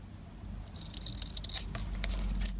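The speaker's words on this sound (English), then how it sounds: "I need my bigger scissors here." Large scissors snip through paper scraps for a journal, a few quick, crisp cuts heard up close over a low background hum, with no talking.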